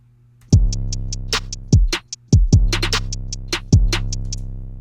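A programmed beat plays with booming, sliding bass kicks and steady crisp hi-hats. Loud snare accents punch through on and off the beat.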